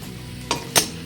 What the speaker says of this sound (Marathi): यामध्ये 1 चमचा हळद घाला आणि याला परतून घ्या.